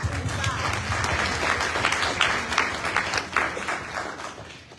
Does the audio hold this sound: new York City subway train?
no